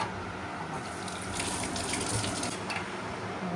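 Tap water running steadily into a sink while fish is washed and cleaned for cooking, a continuous close gushing splash with no talk over it.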